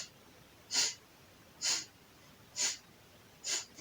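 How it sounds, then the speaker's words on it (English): Four even, audible exhalations through the mouth during seated chair yoga, each a short breathy rush spaced about a second apart, close and clear against quiet. "I'm breathing out of my mouth to make it audible"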